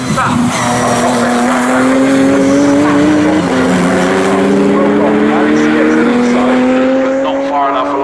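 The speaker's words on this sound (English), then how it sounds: "Will Goss looking up the inside, the lead battle going in towards Riches." GT race cars at Snetterton circuit, loud engines droning close by with rising and shifting pitch as several cars pass in a tight battle, a commentator talking over the sound.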